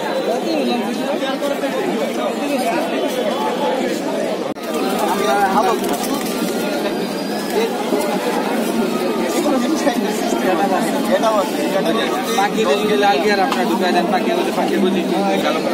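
Dense crowd chatter fills a busy pigeon market, with many voices talking at once and pigeons cooing intermittently beneath the steady babble.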